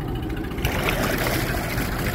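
2010 Yamaha 25hp four-stroke carbureted outboard with automatic choke running steadily, a low continuous engine drone with a slight shift in tone partway through as it changes gear.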